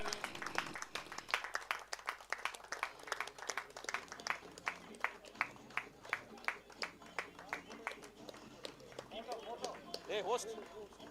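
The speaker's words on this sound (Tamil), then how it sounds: "நல்ல ஒரு பலமான கைத்தட்டல் கொடுத்துடலாங்க" Applause at a cricket ceremony, steady clapping from a modest audience at a moderate distance, slightly irregular and lasting through most of the span, with voices murmuring near the end.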